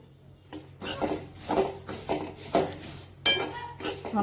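Salt being stirred into poha chivda in a pan over low heat, with repeated close scraping and clinking of a spoon against metal in an uneven rhythm.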